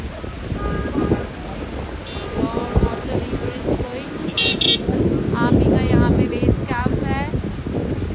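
Traffic jam at Nathu La pass in Sikkim, with a steady rumble of idling vehicles and wind buffeting the microphone, short car horn toots sounding a few times, and people talking nearby.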